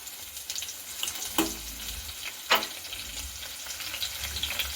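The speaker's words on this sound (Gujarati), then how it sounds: "હવે આપણે તેમાં ટમેટું એડ કરી દઈશું તો આને સારી રીતે આપણે મિક્સ કરી લઈશું" Tomato and softened onions sizzle steadily in a pan for Kathiyawadi urad dal, a dense, close frying hiss with two sharper scraping stirs partway through, and no voices.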